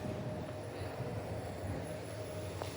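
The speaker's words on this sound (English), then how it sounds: "I'm pretty sure this is the last ever Sunbury train through the loop right here." A Comeng suburban electric train on the Sunbury line pulls into an underground City Loop station, heard as a steady low rumble with a faint high whine that holds evenly throughout.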